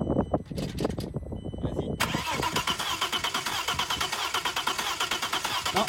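An Audi A4 engine cranks with the accelerator pedal held to the floor, a steady, rapid grinding churn that runs without catching after a short spoken command and some clatter.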